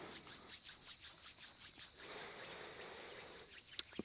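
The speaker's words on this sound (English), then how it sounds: "rub them together, create a warm friction" Two hands rub together briskly during a yoga stretch session. The soft, quiet, rhythmic swishing repeats in steady back-and-forth strokes, close and alone.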